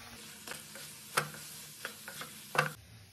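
Chana dal halwa gets stirred with sugar syrup in a kadhai: a few distinct spoon scrapes and clacks against the pan over a soft, quiet sizzle, with no talking.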